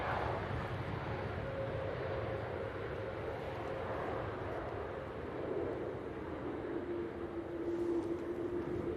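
An Icelandair Boeing 737 MAX 8 departing Manchester Airport gives a steady, broad jet roar at a distance, holding constant for several seconds with a faint rising engine whine.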